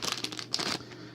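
A package is sliced open with a sharp knife, giving a brief burst of crinkly cutting and tearing noises that sound faint and close.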